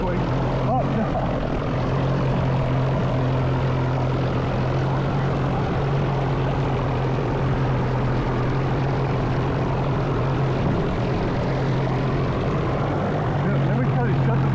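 A boat motor drones loudly and continuously on a Texas lake, a steady low hum with a constant tone that holds throughout.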